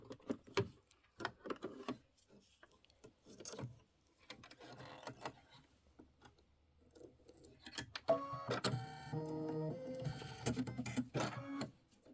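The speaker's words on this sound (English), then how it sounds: "And here comes the little quilting stitch." A home sewing machine stitches a quilting stitch with basil-colored thread on a Christmas stamps quilt block, giving a steady mechanical whirring run near the end after quieter handling clicks and rustles, close up.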